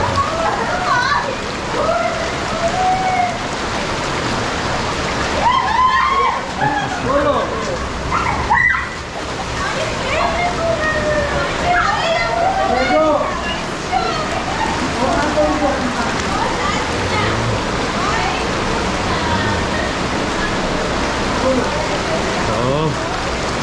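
Waterfall near Owzkola village in northern Iran, a constant loud rushing and splashing of water that runs throughout, with voices talking over it at times.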